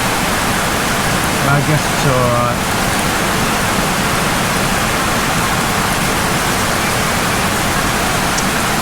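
Heavy tropical rain pours steadily in Naga City, Philippines, a dense, even hiss throughout, with brief voices speaking near the start.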